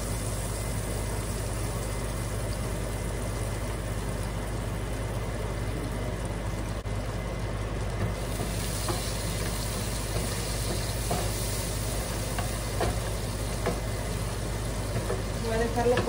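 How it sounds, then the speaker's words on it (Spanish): Garlic sizzles steadily in a pan for shrimp and asparagus spaghetti, a continuous close frying hiss with a low hum beneath and no talk. "Voy a agregar el ajo."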